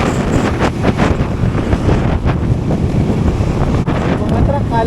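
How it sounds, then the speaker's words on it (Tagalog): A truck overtaking on a Philippine highway at roughly 100 km/h, a loud rushing roar mixed with heavy wind buffeting at close range, continuous for several seconds. "So, overtingan na tayo ng truck."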